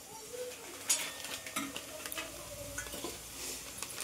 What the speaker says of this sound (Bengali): এই যে ভেজ চাউমিন হচ্ছে সবজি দিয়ে।